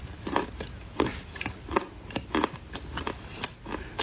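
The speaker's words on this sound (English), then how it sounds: "She's still chewing." A person chewing close up, with a run of crisp, crunchy bites and wet mouth clicks repeating irregularly in a quiet room.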